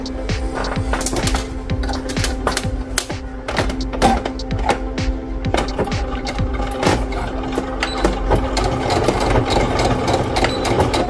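A sewing machine stitches fabric for a camper van bench seat cover, running in a steady fast mechanical patter of needle strokes with a constant motor hum, close and fairly loud, with no talking.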